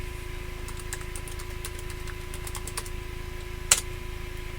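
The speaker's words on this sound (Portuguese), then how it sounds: "eu posso forçar uma atualização no Tasmota digitando o comando teleperiod, assim como eu vou fazer agora" Soft, scattered keystrokes tap on a computer keyboard as a Tasmota teleperiod command is entered, quiet clicks over a faint steady hum with one sharper key press near the end.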